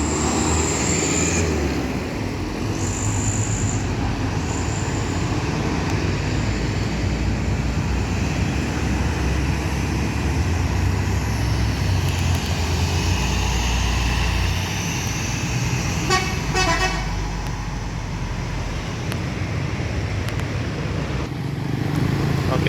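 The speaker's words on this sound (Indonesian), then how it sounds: "melintas pukul 20:23 Bundaran Lambaru dengan sasis Mercedes-Benz" A Mercedes-Benz 1836 chassis sleeper bus passes Lambaru roundabout at night: a steady, loud rumbling roar of engine and road noise that fills the whole stretch, with no voices.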